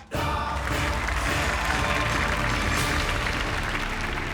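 Studio audience applause on a Thai game show, a steady, loud burst of clapping starting abruptly and sustained throughout, with a little cheering mixed in.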